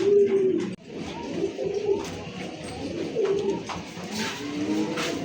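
Kokka pigeons and their chicks coo softly in repeated low throaty rolls, close by, with a faint clatter of birds moving around the coop.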